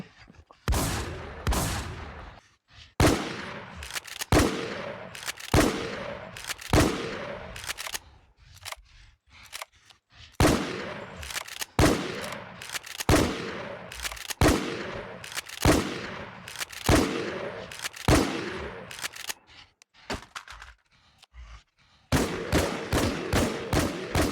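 Rapid bursts of IMI TAR-21 assault rifle fire during a boss fight in the Infestation SEA survival shooter, loud repeated volleys with short pauses between, ending in a fast tight string of shots.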